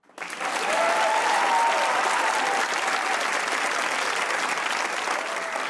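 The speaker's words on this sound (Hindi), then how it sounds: "अगर आप लोगों को यह भी लगता है कि आप बदलेंगे पाकिस्तान तो बजाइए तालियां।" Loud, sustained applause from a comedy talk-show studio audience, dense steady clapping with a few whoops, swelling in quickly and holding for several seconds before easing slightly.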